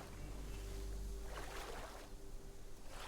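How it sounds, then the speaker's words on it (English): Steady rushing water from a waterfall in the video game BitCraft Online, a continuous broad wash heard alone, with a soft swell of splashing partway through. "We'll admire this waterfall."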